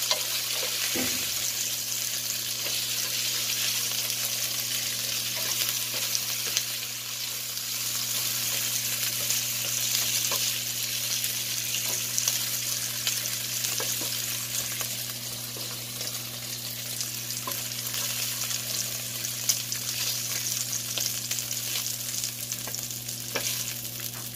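Pork steak fries in a pan with a continuous, even sizzle and scattered pops, under a steady low hum, with no talking.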